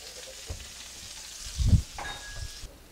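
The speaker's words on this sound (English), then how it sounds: "we'll just put them in the pan like that" Mahi mahi fillets dredged in flour, salt and pepper hit a pan of butter and olive oil, with a low thump as they land and a soft, steady sizzle around it.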